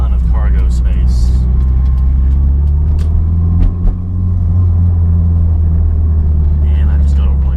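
Toyota MR2 engine and road noise while driving, a loud, steady low drone with constant rumble that fills the whole stretch without letting up.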